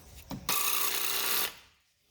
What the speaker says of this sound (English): now we're switching to a sawzall blade for steel cutting